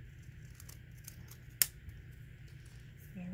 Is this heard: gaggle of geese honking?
no